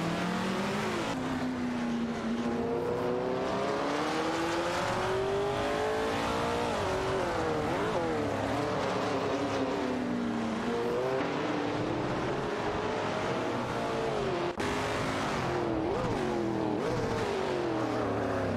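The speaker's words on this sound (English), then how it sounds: "A heated competition for the 4th spot is on between Xiggy and Castle Rat in a Holden Torana" Engines of race cars in a video game race, including a Holden Torana, drone and whine continuously with rising and falling revs as several cars jostle for position, loud and steady with no talk.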